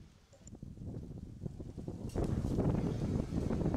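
Light wind buffets the microphone in low, gusty rumbles beside a stream under trees, starting gentle and growing stronger partway through, with faint rustling alongside.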